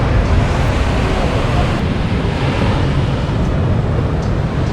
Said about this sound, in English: we're just going to sit and watch the waves